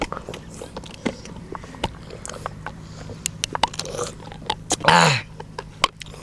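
Close, wet chewing and crunching of food during a no-hands eating challenge, with irregular bites and clicks, a short louder burst partway through, and voices and background noise underneath.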